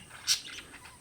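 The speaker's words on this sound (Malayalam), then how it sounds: "കിളികളുടെ ശബ്ദം കേൾക്കാം" A single bright bird chirp rings out, followed by a few fainter tweets against a quiet outdoor background.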